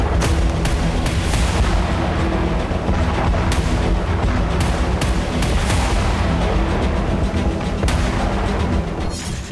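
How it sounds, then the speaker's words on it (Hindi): An oil tanker explodes after a Russian drone attack, heard as a dense, continuous roar of booms and cracking blasts. The noise is loud and unbroken, with sharp bursts scattered through it and no voices. "रूस के ड्रोन हमले से तेल टैंकर में बड़ा विस्फोट हुआ"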